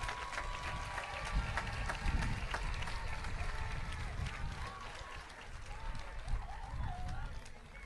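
Graduation crowd for the class of 2017 claps and cheers in a dense, rumbling wash, with scattered shouts and voices mixed throughout.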